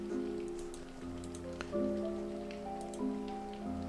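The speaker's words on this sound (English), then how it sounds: "How long has it been raining?" Soft rain pattering steadily on a surface, faint and continuous beneath sustained tonal music, from the video game If on a winter's night, four travelers.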